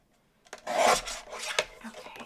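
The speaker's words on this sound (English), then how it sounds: "I'm going to trim it down to 4 by 5 1/4" Cardstock being trimmed down to size for a handmade card, a close rasping slide of the trimmer blade across the paper lasting over a second, followed by a shorter scrape and soft handling sounds.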